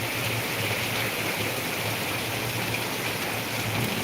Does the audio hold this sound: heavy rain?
yes